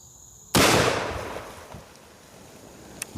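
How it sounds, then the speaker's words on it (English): A single very loud gunshot from a .500 Bushwhacker revolver firing hard-cast and Black Talon rounds into water jugs outdoors, with a sharp crack followed by a long decaying boom and a small pop near the end. "Let's go right to shooting"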